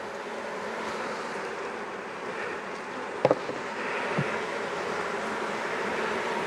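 Honey bees buzzing over hive brood frames during a colony inspection, a steady close droning hum with a couple of brief knocks partway through.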